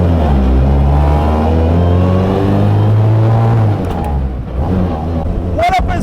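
A BAC Mono street-legal race car engine revs hard and very loud from close behind, with steady harmonic drone rising in pitch, easing briefly, then a sharp rev near the end.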